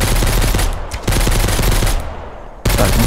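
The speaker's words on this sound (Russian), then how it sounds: "Кто-то стреляет с винтовки, это опасно." Rifle fire in the survival video game Mist Survival comes as rapid, loud bursts of shots in a fast rhythm, with two short pauses between volleys.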